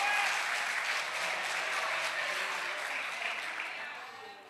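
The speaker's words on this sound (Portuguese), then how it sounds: "levante as suas mãos e aplauda o Senhor" Sustained applause from a church congregation during a worship service, steady clapping throughout that gradually softens toward the end.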